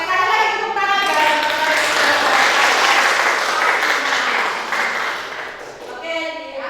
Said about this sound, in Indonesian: sekali lagi tepuk tangan ya